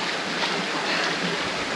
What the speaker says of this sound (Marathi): हे जे वॉटरफॉलचं पाणी पडतं आहे खाली